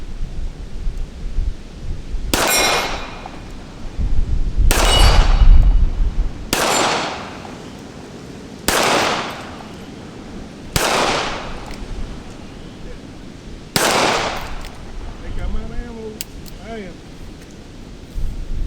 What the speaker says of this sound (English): let's do a little bit of shooting now. See if I can hit anything at all